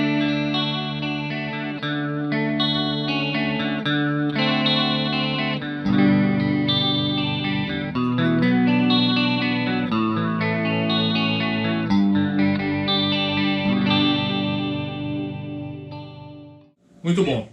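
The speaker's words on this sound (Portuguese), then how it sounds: "E agora eu coloquei a chavinha na posição vibrato, vou fazer o mesmo lick aqui" Electric guitar lick played through a Roland JC-120 Jazz Chorus amp with its vibrato switch engaged and reverb turned down slightly, a steady run of sustained notes, close and loud, ending in a brief pause and a final strum.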